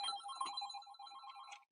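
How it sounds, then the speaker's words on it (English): An old corded landline office phone rings with a bright, trilling electronic bell, one continuous ring that stops abruptly at the end, heard at moderate distance with no talk. "Just give it a second to stop ringing, and I'll unplug it."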